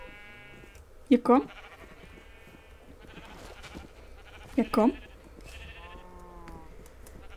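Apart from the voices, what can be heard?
sheep bleating in video game Minecraft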